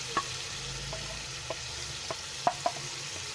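Red chilli, coriander and turmeric powders with salt frying in a pan for stuffed bitter gourd, a soft continuous sizzle with several sharp spoon clinks and scrapes at irregular intervals, close up and with no talking.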